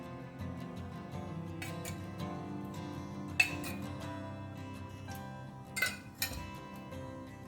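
A metal spoon adds oil into a kadhai on the stove. A few faint, sharp clinks sound against a low, steady kitchen hum.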